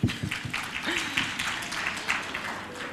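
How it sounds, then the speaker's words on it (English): Audience applause at a regional workshop after project team members are introduced, a steady wash of many hands clapping with a few voices and a cheer mixed in, moderately loud throughout. "Give them an applause."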